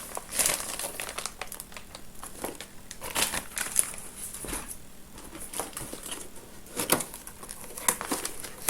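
Plastic bag being rummaged through while a wool winder is pulled out of a Temu shopping haul, giving close, continuous crinkling and crumpling with sharper rustling bursts and no talk.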